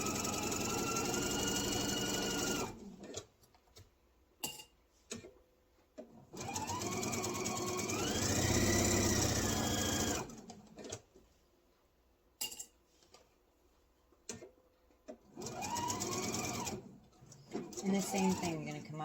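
A sewing machine runs in several bursts while stitching an apron, its motor whine rising and falling between pauses, with a person talking over and between the runs.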